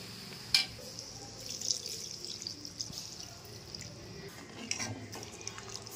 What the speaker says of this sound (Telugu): ఒక గ్లాసు వాటర్ వేసుకుంటున్నాను